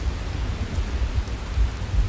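Rain and a thunderstorm in the video game Skyrim: a steady wash of heavy rainfall with deep low rumbles of thunder rolling underneath, continuous and fairly loud, with no voices.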